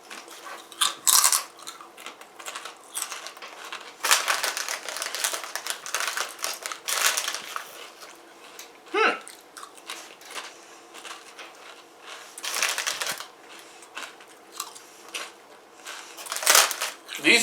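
Lay's Subway buffalo chicken dip potato chips being chewed close to the mic, loud irregular crunching bursts with a rustle of the bag throughout.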